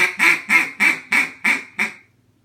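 Six loud, nasal quacks from a duck call worked as a comeback call, evenly paced and slightly shortening toward the end, played close up with no voice over them.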